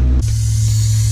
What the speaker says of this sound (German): Ich mache WD-40 auf die ganzen Schrauben drauf, damit es mit dem Lösen einfacher wird